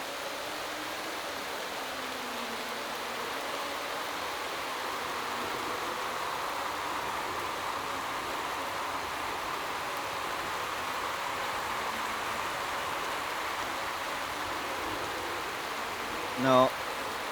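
Rain in the racing management game Motorsport Manager, a steady even hiss of rainfall and spray filling the background, continuous and moderately loud, with a brief click near the end.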